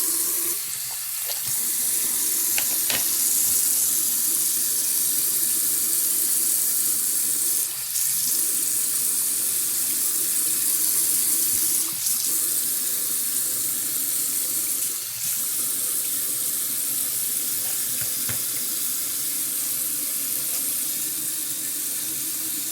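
Tap water runs steadily into a sink while hands are washed with homemade soap, a continuous close hiss of flowing water broken by a few brief interruptions as hands move under the stream.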